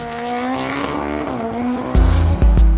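A drag racing car on a 750-meter high-grade asphalt circuit at a National Drag Racing Circuit Championship venue in Batangas, its engine loud and close with a rising then falling pitch, followed by sharp heavy bangs.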